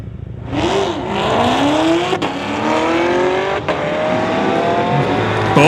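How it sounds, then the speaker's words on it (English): A Chevrolet Corvette and Camaro launch down a drag strip at a street-legal racing event, engines roaring loud and close with rising revs through several gear changes, one car lifting off early. "Both Chevys on a good charge, but again, the Corvette having to lift out early and give it up to the Camaro."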